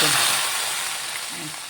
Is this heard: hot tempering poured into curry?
yes